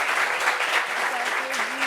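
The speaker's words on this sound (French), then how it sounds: "Ça s'applaudit." An audience gives a short, even burst of applause during an interview discussion, with a brief voice heard under the clapping.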